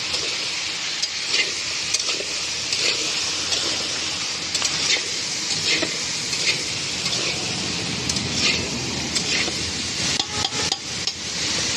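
A vegetarian pepe and potato sabji is stirred in a pan: a steady close sizzle of frying carries repeated scraping and clattering strokes of the spoon throughout, with no one speaking.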